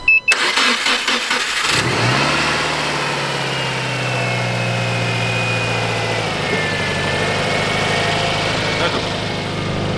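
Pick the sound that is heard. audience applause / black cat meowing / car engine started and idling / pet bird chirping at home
car engine started and idling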